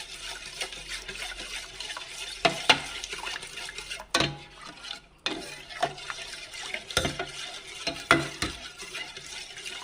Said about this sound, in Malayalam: കരി ഒട്ടും വരാതെ കട്ട ഒട്ടും പിടിക്കാതെ നന്നായിട്ട് വരണമെങ്കിൽ കൈ വിടാതെ ഇളക്കണം